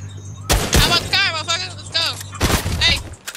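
Gunshots crack in a PlayStation 4 game, a burst of loud shots at the start and another cluster near the end, mixed with someone talking and shouting.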